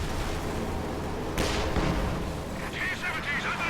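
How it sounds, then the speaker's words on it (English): An artillery barrage in Company of Heroes 2, shells raining down on an enemy garrison, makes a dense, continuous roar of battle noise with a sharper blast partway through. "he is indeed trying to barrage over their garrison"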